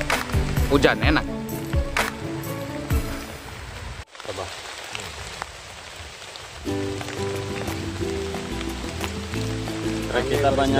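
Rain falls steadily in a Sumatran forest, a dense patter close by that fills the whole stretch and briefly drops out partway through, while people talk over it.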